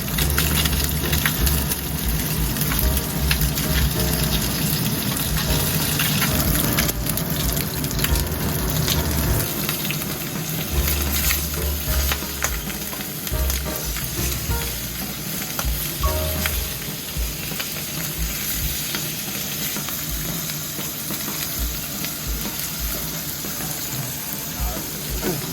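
Chicken thighs fry skin-side down in a hot pan with a little oil for Spanish garlic chicken, giving a loud, continuous close sizzle with crackling and spattering throughout and no talk.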